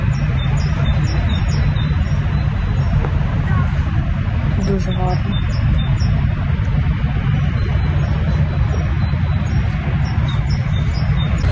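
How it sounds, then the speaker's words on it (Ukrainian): Small birds chirp faintly in the background outdoors on a sunny, breezy day, their thin calls coming through steady wind noise while someone speaks briefly nearby. "послухайте, як на фоні гарно пташки співають"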